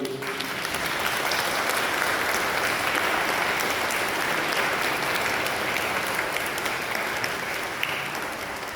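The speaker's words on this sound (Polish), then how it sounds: "Brawa dla niej." Applause from a parish audience honours a parishioner who portrayed Queen Jadwiga, a dense, even wash of clapping that holds steady from start to finish with no talk over it.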